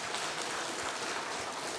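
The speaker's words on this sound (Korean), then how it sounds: "우리 하나님 앞에 영광의 박수 올려드리겠습니다." Church congregation applauding at a thanksgiving service, a dense broadband patter of many hands clapping at once, steady and fairly soft throughout the short burst with no talk.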